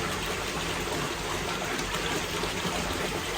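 Water rushing steadily out of a K-Plus Advance pond filter, a constant close splashing flow with no voices.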